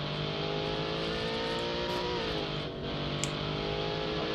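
A race car in the game Automation accelerates hard, its engine droning loud and steady with rising pitch and a brief gear-change dip midway, with no voices.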